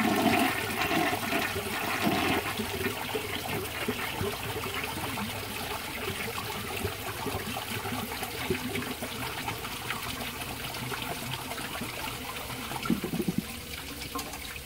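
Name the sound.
1955 toilet flushing and siphoning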